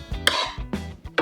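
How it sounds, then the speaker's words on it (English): A ruler strikes a freshly leveled ebony fretboard, giving a few short, close, ringing knocks with quick decay and spaced irregularly. "this ruler makes when it hits the flat surface."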